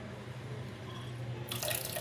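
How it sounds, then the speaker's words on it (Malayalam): A tap in a toilet with little water is opened after a quiet hum, releasing a sudden faint hiss of running water near the end. "ടാപ്പ് തുറക്കുകയാണ്."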